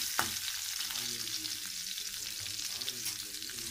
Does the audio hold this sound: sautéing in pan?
yes